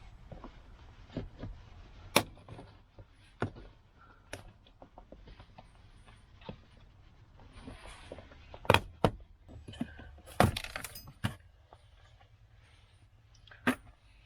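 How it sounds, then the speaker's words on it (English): Plastic interior trim panel on a Lexus GX470 being pried loose with a trim removal tool: scattered sharp clicks and snaps of varying loudness over a faint low rumble, with a couple of louder pops near the end. "we're going to take this trim piece off right here, and this just really pops right up"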